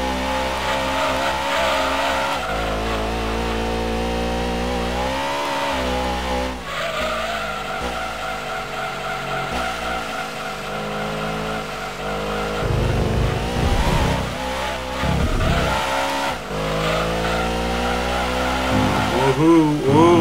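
Race car engine in Gran Turismo 2 revving loud and steady for the whole stretch, pitch rising and falling through gear changes, with tire squeal and skidding bursts as someone talks over it.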